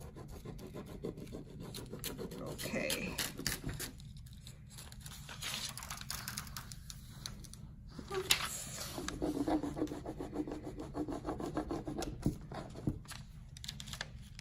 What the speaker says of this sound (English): I can always go back and just rub on it again and it'll stay.